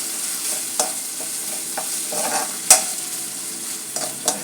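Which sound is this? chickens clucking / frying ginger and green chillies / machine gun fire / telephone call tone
frying ginger and green chillies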